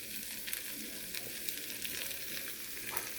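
Sliced barbecue chicken sizzles and fries in a pan for chow mein, a steady close crackling hiss with faint stirring scrapes and no talk.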